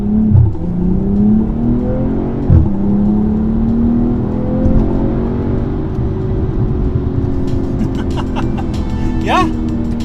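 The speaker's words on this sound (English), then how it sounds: "we'll come down here to the bottom and we'll accelerate out into traffic here and see what this feels like" A 2022 BMW M440i xDrive Gran Coupe with the B58 engine pulls out into traffic, its steady rising drone and whir loud and close throughout, with a brief higher whine near the end.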